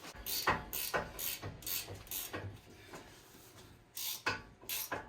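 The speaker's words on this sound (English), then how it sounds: "Here I'm going to use a wrench, but I'm also going to increase the strength by adding a wrench on it." A wrench, extended with a second wrench for leverage, works the front brake caliper bolts on a 2013 Honda CR-V, giving a regular series of close metallic ratcheting clicks about twice a second.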